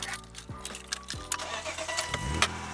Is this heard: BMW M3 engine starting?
yes